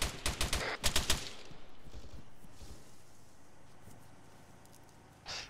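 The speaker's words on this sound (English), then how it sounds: "definitely some high quality AK fire" AK rifle fire in the video game Arma 3 crackles in quick bursts of sharp shots near the start, then fades to a faint background with one more distant shot at the end, with no talking.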